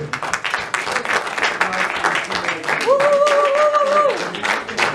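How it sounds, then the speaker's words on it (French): A room full of people at a film premiere applauds steadily, with a brief whistle-like tone sounding over the clapping near the end. "On l'applaudit, s'il vous plaît."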